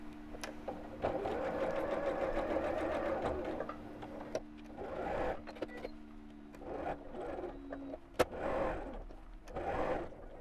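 A sewing machine quilts through fabric layered with non-fusible batting, its motor humming steadily in runs of stitching broken by short pauses and faint clicks, close by and moderately quiet.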